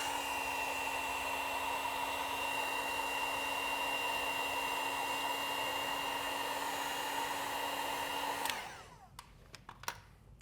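Heat gun warming car vinyl wrap on the trunk of a Tesla Model 3 Highland, a steady loud fan-and-blower whine held for several seconds, then switched off with a falling tone and a few light clicks and taps.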